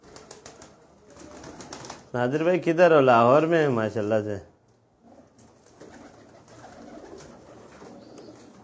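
Ferozpuri pigeons, an old breed, give a loud, close, throaty cooing burst lasting about two seconds, with someone speaking before and after it.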